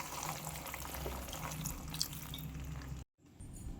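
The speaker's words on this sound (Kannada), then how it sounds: "ಈಗ ಇದಕ್ಕೆ ಬೇಯಲಿಕ್ಕೆ ಬೇಕಾಗುವಷ್ಟ ನೀರನ್ನು ಹಾಕ್ಕೊಳ್ತಾ ಇದ್ದೇನೆ." Water poured into a cooking pot of wilted taro leaves for a taro leaf stir-fry, a steady close splashing gush for about three seconds that stops abruptly, followed by a faint quiet kitchen background.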